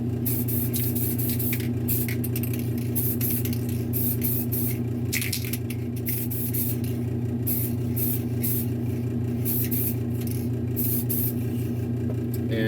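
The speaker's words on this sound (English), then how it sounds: "It's about out of paint, so I got just enough for 1 coat." Spray paint hisses steadily from a nearly empty can as one coat goes onto a custom cat figure sculpture, a continuous close spray with brief pulsing bursts over a constant background hum.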